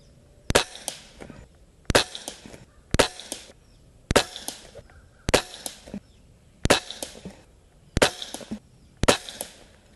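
Umarex Walther Reign .22 caliber bullpup airgun emptying a magazine at a bowl target, eight sharp loud shots spaced evenly about every second and a half, each trailed by a short metallic ring and clatter, with nobody speaking.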